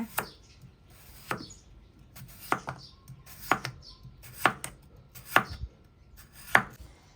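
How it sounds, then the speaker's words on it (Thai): A knife slices peeled potatoes into thin pieces on a board, seven or so sharp, evenly spaced chops, close and clear with quiet pauses between. "เอามาฝานหั่นเป็นแผ่นๆแบบนี้นะคะ"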